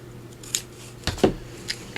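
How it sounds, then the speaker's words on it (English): Scissors trim the paper of a junk-mail window envelope pocket in a few quick, crisp snips, close by and isolated, with quiet pauses between cuts. "So let me just trim that a bit."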